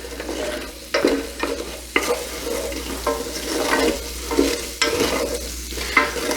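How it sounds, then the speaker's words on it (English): Onions sizzle in olive oil in a pan while a spoon stirs them, giving repeated scraping strokes about once a second over a soft, steady frying hiss, close-up with no talking. "get them coated in the oil a bit. We'll just give them a quick sweat."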